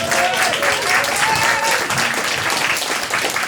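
A crowd applauds two songwriters at a music event, a steady, full burst of clapping that carries through, with faint voices underneath.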